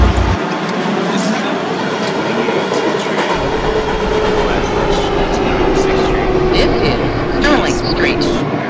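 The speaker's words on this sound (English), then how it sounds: "This is a Manhattan bound 5 local train." A New York subway 5 local train bound for Manhattan on the 7th Avenue Line in a train simulator, a loud steady rumble with rhythmic rail clatter and a rising motor whine throughout.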